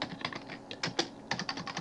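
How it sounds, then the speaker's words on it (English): Typing on a computer keyboard, a run of quick, light key clicks in uneven bursts with a short pause midway, close and fairly quiet, with no voices. "by typing enter, and then second line goes there"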